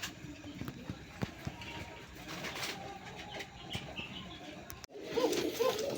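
Soft cooing from a red Deshi Rajgola pigeon, faint and intermittent under background noise, with a burst of rustling and brief cooing near the end.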